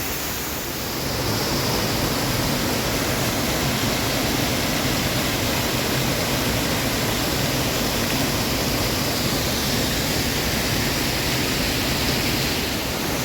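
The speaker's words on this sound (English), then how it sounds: "You can probably hear the sound of rushing water." Rushing water at a waterfall near Clydach, Wales, fills the scene with a constant broadband roar that swells in within the first second, then holds loud and close with no talking.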